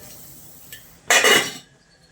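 A steamer pot lid is lifted off after ten minutes of steaming semolina idli, giving a brief, fairly loud metallic clatter and scrape midway, with quiet kitchen background and no talking.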